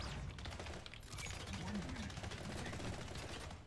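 Rapid video game gunfire in the arena shooter Splitgate, steady bursts of shots over a busy game mix, moderately loud and continuous.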